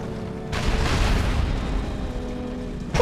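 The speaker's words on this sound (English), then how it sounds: "have your hydrofoil fire on that Soviet Apocalypse tank on the shore" A hydrofoil's weapon jammer firing at a Soviet Apocalypse tank on the shore in the Red Alert 3 strategy video game, a sudden loud burst that swells and sustains for a couple of seconds before fading, ending with a sharp new hit.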